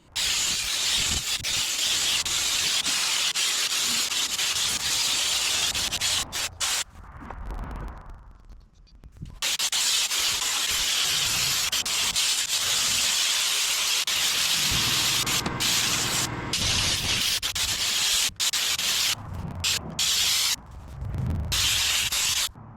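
A steady, loud hiss of a spray gun applying texture coating on a crane truck runs almost continuously, breaking off briefly a few times before resuming at full strength.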